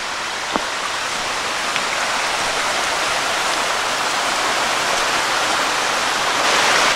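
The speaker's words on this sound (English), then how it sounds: "this is just a beautiful stream here. Just little waterfall, or what do you call it, cascade after waterfall after waterfall" A forest stream tumbling over a series of small waterfalls and cascades along a Pennsylvania hiking trail, heard as a steady, full rushing wash of water that stays close and continuous throughout, with no voices.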